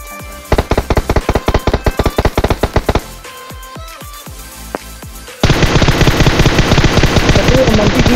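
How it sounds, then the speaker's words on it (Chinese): Gunfire in the PUBG video game: a loud rapid string of sharp shots, a few scattered single cracks, then a dense continuous burst of automatic fire to the end. "干嘛声音这样子？ 两个枪声。"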